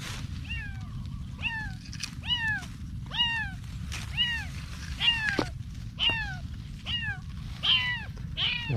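A cat meows loudly and repeatedly outdoors, about one insistent call per second for the whole stretch, close to the listener, over a steady low background rumble.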